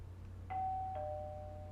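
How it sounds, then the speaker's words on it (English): A two-tone doorbell chime rings once for the monitor in the Danganronpa Another fangame, each tone ringing out clearly and sustaining over a steady low background hum. "the sound for the monitor is a doorbell"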